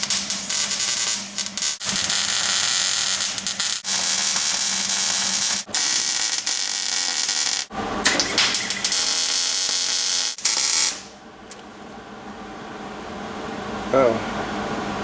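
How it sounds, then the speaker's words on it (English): Welding supports into the roof of a Dodge Magnum car, a loud continuous crackling buzz in long bursts broken by brief pauses, ending abruptly into quieter room tone with a faint voice. "So let's get right back into welding those supports"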